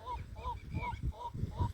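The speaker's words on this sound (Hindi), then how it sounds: "आवाज़ किसकी है भाई, कौन सी चिड़िया है" A bird calls from inside a bush beside the Narmada river in Madhya Pradesh, giving about five evenly spaced, repeated nasal notes, close and clear over a low rumbling background.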